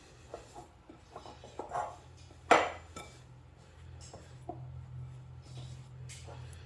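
Lard pie crust dough mixed in a bowl, with scattered clinks and scrapes of a utensil against the dish, one sharper knock in the middle, quiet and close in a kitchen.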